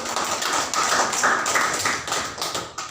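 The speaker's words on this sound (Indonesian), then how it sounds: "kita beri aplaus kepada" Applause in a classroom during a lesson on hydrostatic pressure, a steady patter of many hands clapping together for almost three seconds at moderate loudness, with no talking over it.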